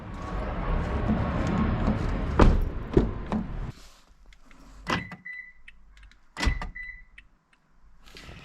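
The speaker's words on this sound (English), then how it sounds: "Sure, the door opens and closes." A 2013-2018 Toyota RAV4 driver's door thuds shut, then clicks and latches twice more with short whirring door lock actuator sounds, close by after a stretch of engine rumble.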